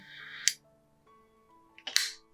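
A lighter flicked to singe the end of crochet yarn: two sharp, close clicks about a second and a half apart over soft background music.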